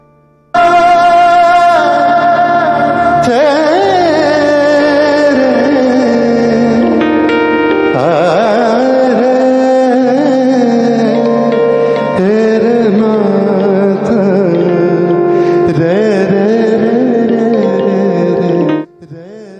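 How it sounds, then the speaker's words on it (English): Raga Bhairavi, a melodic instrumental passage with a sustained drone beneath a gliding, ornamented lead line, played steadily and fairly loud without any voices. "So Bhairavi sounds like this."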